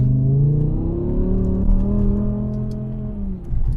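A naturally aspirated V10 engine in a BMW M6 drones loudly and steadily up close, its rich note rising and falling slightly as the throttle is worked, with a brief dip and surge near the end.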